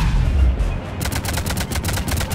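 Rapid machine gun fire in the video game Mass Effect 3, loud close bursts of rhythmic shots that start abruptly after a low rumbling lead-in and keep going to the end.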